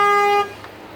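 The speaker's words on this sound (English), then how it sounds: "My brother's honking." A single sustained car horn blast sounds loud and near, then cuts off, leaving quiet road and cabin background.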